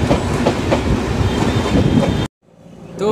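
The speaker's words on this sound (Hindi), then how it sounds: "देखो सियालदा जाने वाली ट्रेन" A local commuter train bound for Sealdah runs through Naihati Junction station, with loud, steady rumbling and clickety-clack of wheels for about two seconds before it cuts off abruptly to quiet station ambience.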